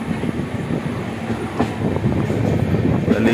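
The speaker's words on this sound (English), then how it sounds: "Araku train." A passenger train on the Araku Valley line near Visakhapatnam rolls steadily past nearby, with a continuous rumble and faint rhythmic clatter of wheels on rails.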